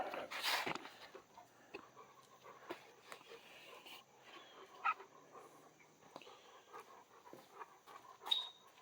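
Dog whimpering and panting indoors, faint soft whines and breaths scattered among light clicks and rustling, with no talking.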